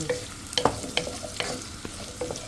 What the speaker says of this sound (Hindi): देखिए ऑयल मेरा थोड़ा सा गर्म हो गया, इसमें प्याज और शिमला मिर्च डालूँगी